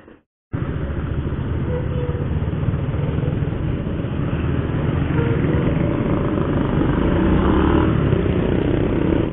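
A motorcycle is ridden on the road, its engine droning loud and steady under rushing wind after a brief quiet start, holding a continuous hum with slight rises in pitch.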